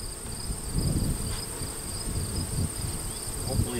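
Honey bees buzz steadily around mini mating nucs being set up for wintering, a close, continuous hum of many insects with no talking.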